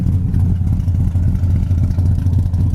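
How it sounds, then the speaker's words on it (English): A 1971 Plymouth Duster engine rumbles loud and steady through its dual exhaust, a deep throaty drone holding at a constant pitch with no voices. "Dual exhaust comes out nice, sounds good."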